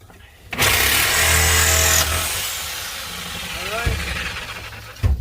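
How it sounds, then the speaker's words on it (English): Milwaukee Sawzall reciprocating saw cutting through a rusted boat floor frame, a loud steady buzzing burst of about one and a half seconds, then quieter scraping and rubbing, ending with a short sharp clatter. "This is why I like to use the Milwaukee Sawzall."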